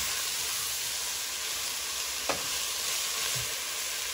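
Celery and onions sizzle steadily in a pot for a keto spicy mushroom soup, a continuous close frying hiss broken by one brief scrape of the spoon as the vegetables are mixed.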